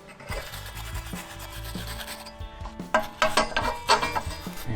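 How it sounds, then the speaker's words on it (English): Close wire-brush scrubbing on the rear hub bolts and mating surface of a Volvo XC90, a steady rasping that grows into sharper, bursty strokes toward the end, with clanks of metal underneath and no talking. "I'm gonna just brush off these bolts and then brush off in here."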